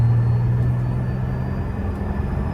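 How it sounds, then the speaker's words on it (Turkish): A BMW X5 E53 with a 3.0 diesel six-cylinder engine, a low, steady rumble with a faint tonal hum, heard up close from inside the vehicle without speech. "Altı silindirin sesini her yerde hissediyorsunuz."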